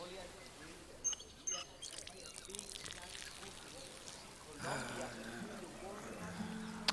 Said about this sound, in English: Turn on faucet.